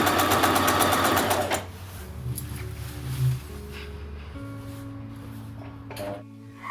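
A sewing machine stitches a child's school dress, a close, rapid mechanical chatter for about a second and a half that cuts off, leaving quiet room hum and faint handling noises.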